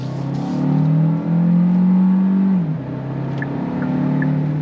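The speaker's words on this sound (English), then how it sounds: "Let's go on throttle again." A 2025 Kia Carnival Hybrid minivan with an electric motor and 6-speed automatic accelerating on throttle, a loud steady engine drone rising in pitch, dipping briefly as it shifts, then settling into a smoother cruise hum.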